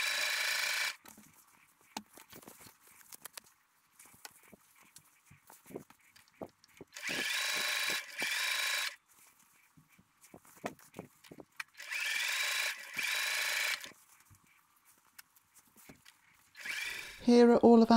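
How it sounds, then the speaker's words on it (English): Sewing machine stitching quilt binding strips together in short bursts, each a steady whirring run of a second or two separated by quiet pauses with small handling clicks and rustles. "I'm just going to stitch all six pieces together."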